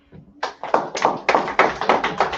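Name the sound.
hand clapping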